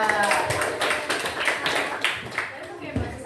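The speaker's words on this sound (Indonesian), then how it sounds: "tepuk tangan buat Gita." Classmates give a short round of clapping in a school classroom for a student named Gita, a brief patter of hands mixed with chatter and voices over it.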